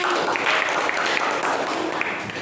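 Classroom applause from students after a lesson, a steady dense patter of many hands clapping at even loudness throughout, with no voices standing out.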